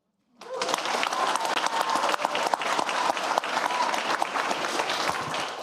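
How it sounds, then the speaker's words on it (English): An audience claps steadily for a student speaker at a Los Alamitos school district board workshop. The dense applause starts suddenly after a brief silence and holds at a constant level throughout, with no talking over it. "One more big round of applause for Morgan Bignami."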